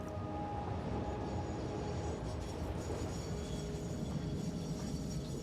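A train rolling past in the Satisfactory video game, a continuous rumbling mechanical drone with faint tonal hum, steady in level throughout with no voices.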